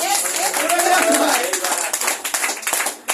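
Audience applause rises at a public health talk on diabetes treatment: dense, steady clapping that fills the room, with a voice carrying over it before the clapping thins out near the end.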